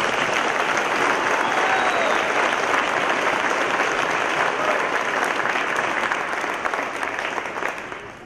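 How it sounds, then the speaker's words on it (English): A military retirement ceremony audience gives sustained applause, a thick, even wash of many hands clapping that stays loud for several seconds before tapering off at the end. "Please join me in a round of applause"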